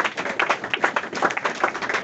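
A church congregation claps in a close, uneven patter of hand claps with a few voices mixed in. The clapping is brief and moderately loud.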